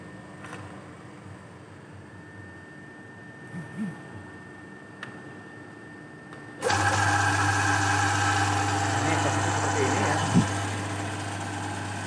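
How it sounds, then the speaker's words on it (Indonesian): An electric motor standing in for the engine on a car air-conditioning system simulator switches on partway through, giving a sudden loud, steady low hum that continues to the end. Earlier there is quieter room noise, and a person speaks briefly. "di simulator sistem AC ini sebagai pengganti mesin kita menggunakan motor listrik ini"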